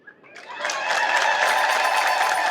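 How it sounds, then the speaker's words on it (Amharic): A church congregation at a sermon breaks into applause, rising quickly to a dense, sustained clapping from many hands in a large room. "እስኪ አጨብጭቡ አንድ ጊዜ።"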